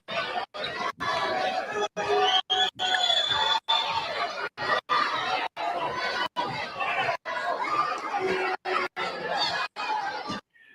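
Crowd at an independent wrestling show chattering and cheering, a dense murmur of voices with shouts and laughter, broken repeatedly by abrupt short silences.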